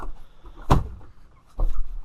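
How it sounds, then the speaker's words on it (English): A frozen car door on a Honda Del Sol is pushed shut but fails to latch, giving two dull, fairly loud thuds about a second apart. "oh, that door won't closed."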